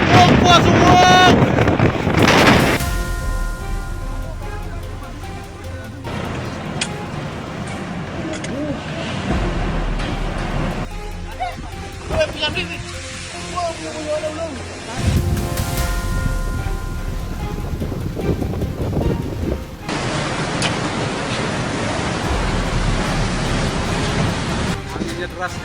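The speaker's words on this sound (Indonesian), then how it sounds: "Anginnya deras sekali." Strong storm wind in Bali buffets the microphone with a constant loud roaring rush that surges and shifts in broad gusts. Voices are heard faintly under it.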